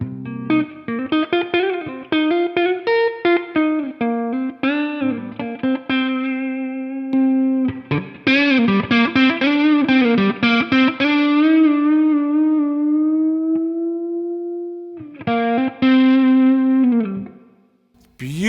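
Electric guitar played through a Wampler Belle Overdrive pedal on a clean setting, ringing single notes and chords in a sustained melodic phrase, loud and close with light ambience and a brief pause near the end.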